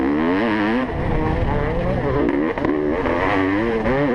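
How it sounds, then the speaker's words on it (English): A 1989 Honda CR500 two-stroke motocross bike races around the Fox Hills track, its loud engine rising and falling in pitch as it revs through gears and corners, close and continuous. "to see where Crass is, or he's starting to feel the fatigue of battling the big red CR500 around the track here at Fox Hills today"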